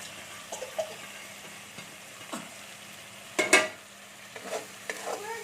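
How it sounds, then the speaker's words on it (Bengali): Fried okra and green chillies are stirred into spice paste in a pan, giving a faint, low sizzle broken by a few soft spatula scrapes and one louder clatter midway; no voices. "আর এর মধ্যে আমি যে ভেজে রেখেছিলাম ভেন্ডিগুলো, লঙ্কাগুলো আমি সব দিয়ে দিচ্ছি"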